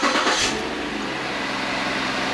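A Lincoln MKX engine runs steadily after its loose throttle body connector was plugged back in, a smooth, even idle hum that holds close and constant throughout with no voices.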